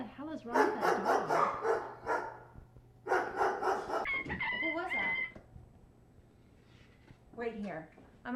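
A dog barks repeatedly in a horror thriller scene, the barks mixed with and partly masked by talking voices, with a steady low hum underneath.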